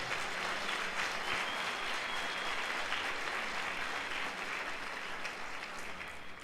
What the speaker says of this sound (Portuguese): Pode dar um aplauso ao Senhor?